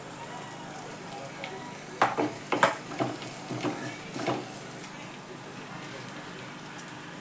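Grated ridge gourd is dropped into onion frying in a pan and stirred, with a soft background sizzle and several sharp scraping clatters of a spoon against the pan, plus a few faint clicks.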